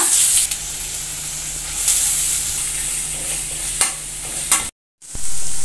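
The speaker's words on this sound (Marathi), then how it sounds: "आता तेल आपलं गरम झालंय, त्याच्यामध्ये मी घालते मिरची, त्यानंतर घालायचा बारीक चिरलेला कांदा" Chilli and finely chopped onion crackle loudly in hot oil, a dense close sizzle with a few stirring scrapes and one brief dropout near the end.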